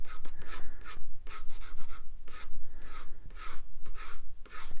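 Pencil drawing on paper for a Spider-Man figure sketch: repeated short scratchy strokes in quick bursts with brief pauses between, close and fairly loud, no talking.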